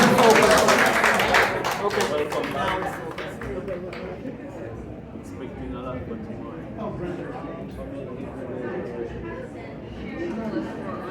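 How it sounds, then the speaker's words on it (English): Warm applause from a reception audience at an education teacher summit, loud and dense at first, then thinning into scattered clapping beneath ongoing crowd chatter and talk. "Let's give her another warm round of applause"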